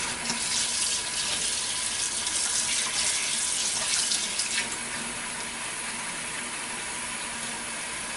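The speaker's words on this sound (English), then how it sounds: "The running water makes it easy to clean them." Steady cold tap water runs and splashes into a sink while shrimp are rinsed, a continuous hissing flow that eases off slightly partway through, with no voices.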